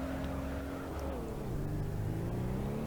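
A 200Bx fitted with a Ford 6.3L V6 drifting in BeamNG.drive, engine droning and revving steadily with pitch dipping and rising as it slides, loud and close without talk.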